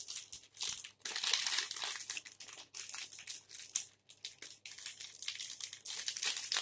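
A sealed packet of spiced biscuit mix with baking powder is crinkled and pulled at while being forced open, giving continuous loud plastic crackling and rustling in close bursts with brief pauses.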